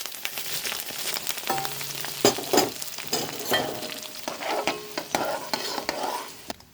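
Chilies frying in hot oil with spices, a crackling sizzle broken up by stirring scrapes and clinks, loud and close with bursts of popping.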